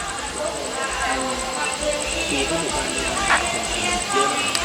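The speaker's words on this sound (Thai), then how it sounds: "313 กรุงเทพบ้านภาชีนะครับ ใกล้เข้ามาในสถานีรถไฟเชียงรากน้อยแล้วนะครับ" Train 313 from Bangkok to Ban Phachi approaches Chiang Rak Noi station at dusk, heard as a low, distant, steady rolling rumble. Someone talks over it, and faint background noise runs beneath.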